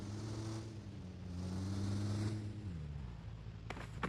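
A vehicle approaching in PUBG Mobile, a steady engine drone whose pitch rises slightly and then drops as it draws near, at moderate loudness with no talking.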